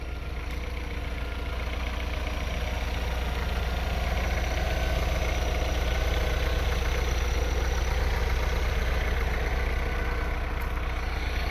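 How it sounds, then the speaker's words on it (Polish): Opel Omega 2.0 16v engine running on LPG, idling steadily and close by with a constant low hum and no talk over it. "Spójrzcie jak ten silniczek pracuje albo posłuchajcie go."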